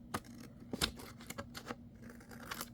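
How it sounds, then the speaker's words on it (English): Scissors cutting a thin strip off craft packaging: a few short, crisp snips and rustles close by, spaced irregularly over a low background hum. "I would just cut this little strip off"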